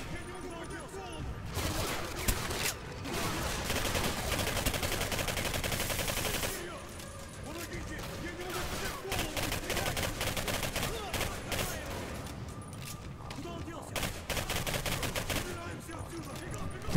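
Rapid gunfire from a weapon in the video game Singularity, loud repeated bursts of shots with brief gaps between them, continuing throughout under a player's voice talking.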